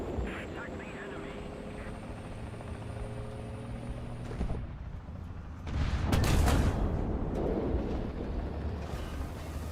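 Helicopter in the War Thunder combat game, its engine and rotor droning steadily amid battle noise, with a burst of louder explosive or gunfire rumble midway.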